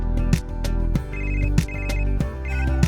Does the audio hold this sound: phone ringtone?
yes